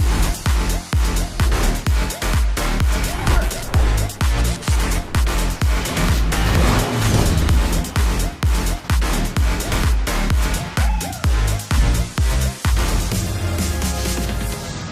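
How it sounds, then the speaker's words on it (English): The Audi RS 3 LMS race car's engine plays loudly and continuously alongside a rhythmic pounding beat, with no talk. "The new Audi RS3 LMS just broke cover now."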